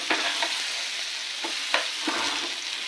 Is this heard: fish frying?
yes